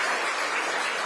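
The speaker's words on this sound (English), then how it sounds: "Can you clap for them" Audience applause at a Kenyan diaspora gathering in Doha, Qatar, for standing department staff: a dense, steady wash of clapping from a large crowd, loud and continuous for about a second.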